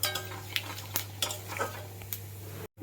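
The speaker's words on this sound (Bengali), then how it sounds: "এবার তেলটাও গরম আছে, ওই তেলে আমি জিরে আর তেজপাতা ফোড়ন দিয়ে দেবো।" Cumin seeds and bay leaves tempering in hot oil, a steady soft sizzle with several sharper clinks of a utensil against the pan, close and fairly quiet, no voices.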